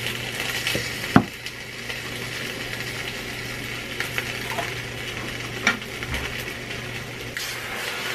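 Dilis (anchovies) frying in a pan give off a steady, close sizzle for the whole stretch, with a few sharp clinks of a utensil against the pan and a low hum behind, with no talking.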